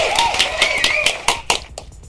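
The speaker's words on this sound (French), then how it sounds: "On peut l'applaudir." Studio audience applause for a guest on a French TV show, a short burst of scattered claps that thins out over two seconds, with voices faintly mixed in.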